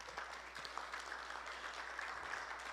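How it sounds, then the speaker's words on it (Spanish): Church congregation clapping during a sermon, soft and somewhat distant, a steady patter of many hands sustained throughout. "Den un aplauso al Señor por eso."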